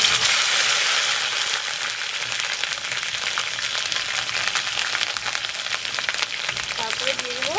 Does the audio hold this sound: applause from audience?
no